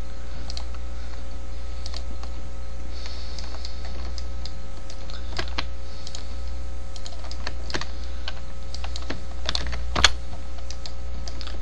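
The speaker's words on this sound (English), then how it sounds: "hit the backspace key, and go ahead and move these edges back over there." Computer keyboard keys clicking in a steady run of close, crisp presses over a constant low electrical hum, with a few sharper single taps like backspace hits standing out toward the end.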